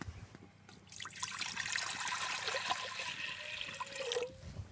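Water is poured into a pressure cooker holding chopped brinjal and broad beans, a steady splashing trickle that rises after a brief start and runs continuously, close and fairly soft.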